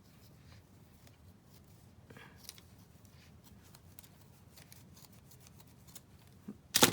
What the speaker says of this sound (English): It wasn't hard to cut. I wanted that jagged edge.